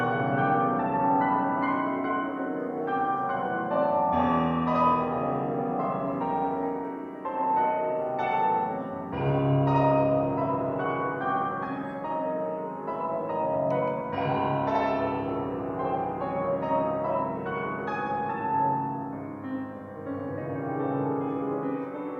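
A piano plays a dense, resonant passage built on low thirds, with sustained ringing chords and repeated swells and accents that carry on continuously without any speech.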